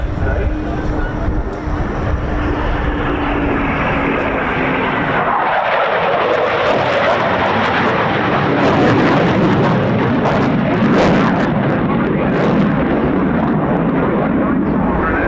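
A Eurofighter Typhoon jet roars through an air show display at RAF Cosford, a loud continuous broadband engine rush that swells and shifts in pitch as it passes, with crackling bursts near the end.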